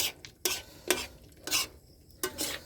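Pork adobo stirred in a pan with a utensil: a handful of distinct scraping strokes at irregular intervals over a faint background sizzle, close and alone without speech.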